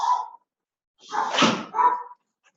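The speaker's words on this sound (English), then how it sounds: "I got dogs that are going to bark for just a second" Dogs bark in a home in a short burst, a quick yap, then a louder cluster of barks after a brief silence, close to the microphone.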